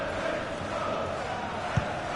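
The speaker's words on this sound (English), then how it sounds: "Well, just listen to this crowd." A football stadium crowd roars as a continuous, fairly distant wash of voices, holding steady with a brief thump near the end.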